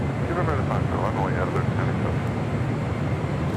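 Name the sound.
United heavy jet airliner arriving at LAX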